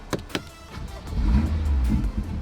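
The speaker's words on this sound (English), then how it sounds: "We're gonna turn on the car." A BMW M2 with a Stage 2 tune cranks after a couple of sharp clicks, then its engine catches and settles into a deep, steady idle rumble close by.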